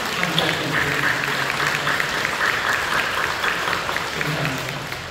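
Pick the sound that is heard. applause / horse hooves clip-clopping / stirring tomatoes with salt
applause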